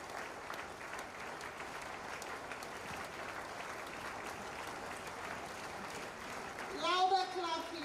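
Audience members clap steadily throughout an induction ceremony for an accountants' institute, a dense, moderately distant wash of applause that swells briefly near the end, with a voice cutting through over the top.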